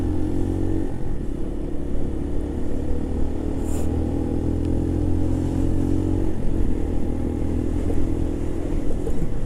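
A Keeway RKV 125 motorcycle is ridden up through the gears, its small engine droning steadily and loudly close by with continuous road and wind noise throughout.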